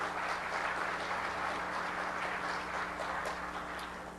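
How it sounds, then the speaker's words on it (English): Steady applause from an audience at the DEF CON 13 hacking conference, welcoming a newly recognized member; dense, sustained clapping throughout with a constant low hum beneath, tapering slightly at the end. "Everybody give our newest goon, Tyler, a big round of applause right there."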